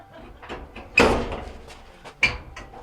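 A Maytag MDG4000BWQ dryer panel is pushed in and clicks into place: two sharp plastic snaps about a second apart amid softer handling rustles.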